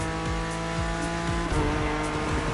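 A BMW M4 race car in The Crew Motorfest, its engine droning loudly and close as it repeatedly revs up through gear shifts, with tires squealing during hard driving.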